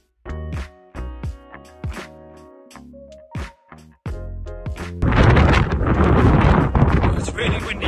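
Gusts of wind buffet the microphone in heavy rumbling bursts, growing into a loud continuous roar in the second half.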